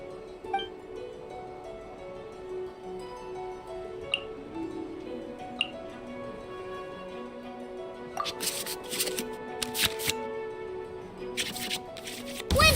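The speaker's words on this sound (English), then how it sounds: "we can select any number of cards in our hand to shuffle back into the draw pile, and then draw the same number of new cards" Cards swished back into the draw pile in the Genshin Impact card game, a cluster of quick rustling card-shuffle sounds over soft background music, with a few light clicks earlier.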